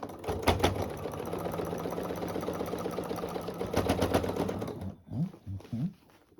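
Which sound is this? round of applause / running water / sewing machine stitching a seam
sewing machine stitching a seam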